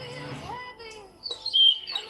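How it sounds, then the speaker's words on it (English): Songbirds chirp in a brief outdoor moment, with high tweeting calls rising toward the end after softer mixed background sounds earlier. "We're only hearing your beautiful birds now."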